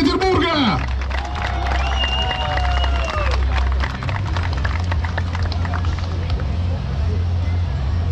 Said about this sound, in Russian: ну и ваши аплодисменты